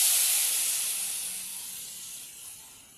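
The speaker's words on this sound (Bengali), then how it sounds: "তখন পরিমাণ মতো অল্প জল দিয়ে দেব।" Water poured into a pan of hot fried masala for a paneer and jackfruit curry hits with a loud, close steam hiss that slowly fades away over a few seconds.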